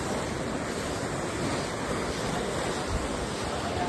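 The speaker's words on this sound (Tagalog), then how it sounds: "Lakas ng alon dito." Strong ocean surf at a beach, a steady broadband roar of waves rolling in with gusts of wind buffeting the microphone, continuous and fairly loud throughout with no voices.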